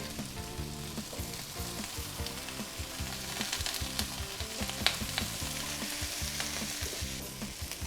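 A garnish with quail eggs warms in a pan, giving a soft, steady frying crackle with light, irregular stirring taps and one brief louder clink.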